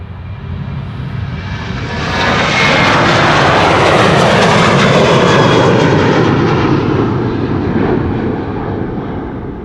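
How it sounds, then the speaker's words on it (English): A KLM Boeing 777-200 wide-body jet takes off at Amsterdam Schiphol, its engines climbing quickly to a loud, sustained roar before easing off slightly as it passes. "That's a 777-200."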